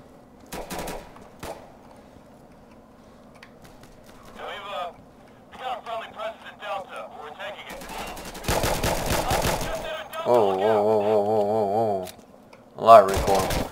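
Handgun shots in the Insurgency map Embassy ring out in scattered sharp bursts, some in quick clusters with a dense volley midway, amid game noises and electronic tones, with no talking.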